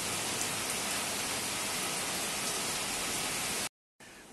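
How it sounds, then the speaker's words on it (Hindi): Heavy, steady rain pours down in a continuous dense hiss that holds evenly, then cuts out abruptly near the end before resuming. "लगातार झमाझम ये बारिश चल रही है।"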